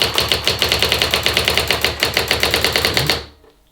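A Brother AX-15 electronic typewriter types in a rapid, even run of sharp mechanical keystrokes, loud and close, which stops abruptly near the end and leaves near silence.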